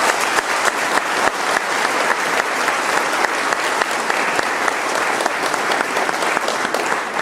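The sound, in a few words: congregation applause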